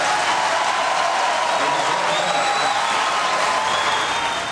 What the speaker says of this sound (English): in response to that crowd booing the question